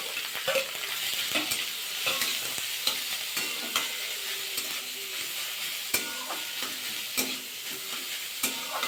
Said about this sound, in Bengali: ফুলকপি গাজর গ্রেট করে রেখেছিলাম সেটা দিয়ে দিলাম